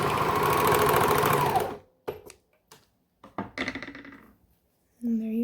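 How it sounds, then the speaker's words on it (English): A sewing machine stitches a leggings cuff in a fast, steady whir that stops abruptly, followed by a few scattered clicks and handling knocks, then a brief restart of the motor at the end. "I like to hold it in this corner right here, as I just let it sew through."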